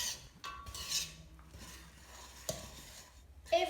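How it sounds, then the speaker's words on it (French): A spoon stirs powdered sugar into a chocolate mixture in a pot, with soft intermittent scraping and clinking, quiet and close. "Et on mélange avec le reste."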